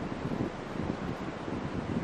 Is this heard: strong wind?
yes